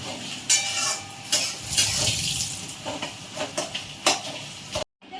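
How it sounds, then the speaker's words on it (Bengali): Onions and marinated mutton frying in a pan at home, a steady sizzle with stirring scrapes and clinks of the utensil, close and fairly loud, stopping abruptly near the end. "পেঁয়াজটা ভেজে মাটনটা দিয়েছি"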